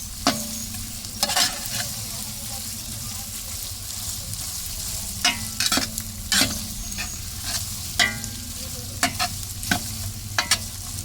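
Ginger sautés in a pan with a steady, moderate sizzle, broken by sharp, intermittent clacks of a utensil stirring and scraping against the pan. No one speaks.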